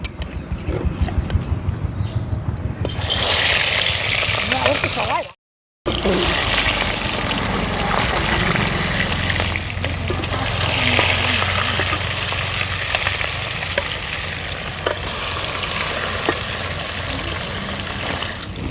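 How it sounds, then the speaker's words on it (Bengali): Rohu fish pieces rubbed with salt and turmeric sizzle and spatter in hot oil in a wok, a loud, continuous crackling fry that holds steady after a brief break. "তেল গরম হয়ে গেছে এবার কড়াইতে দিয়ে দেবো মাছ"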